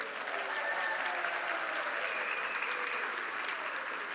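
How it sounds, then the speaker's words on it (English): Audience at a technology talk clapping on request, a steady, even wash of applause that holds for several seconds at moderate volume with no speech. "Could y'all please, like, smile and clap a lot for a second?"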